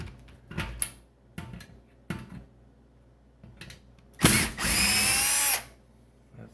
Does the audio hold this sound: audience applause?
no